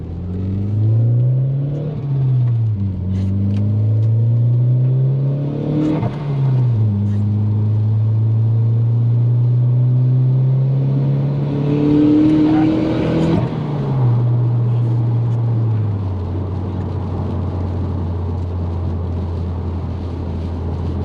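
An MK4 VW Jetta wagon with a big PT15 turbo on its 8V engine, heard from inside the car, accelerates hard. Its rising engine drone climbs through several gears, with distinct shifts breaking the loud, continuous pull.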